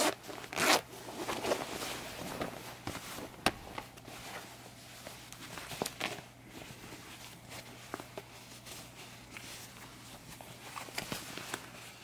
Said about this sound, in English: Button instead of a snap, and it's got a metal zipper.